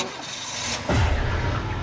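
A car engine turns over and catches on its own, a rising cranking whoosh that jumps into a loud, steady low idle rumble, close by with no voices.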